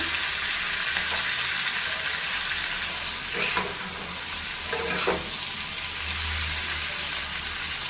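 Masala thokku roasting in a pan over low heat, a dense, even sizzle and hiss that runs throughout, with a couple of soft stirring scrapes, close and fairly loud, no talking.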